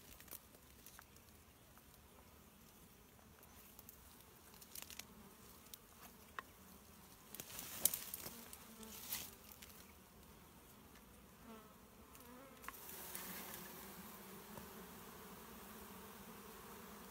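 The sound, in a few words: honey bees buzzing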